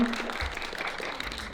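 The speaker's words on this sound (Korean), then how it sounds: "박수 부탁드립니다." At an animation talk event, an audience gives brief, moderately quiet applause for a professor being introduced, with a short burst of clapping in a hall.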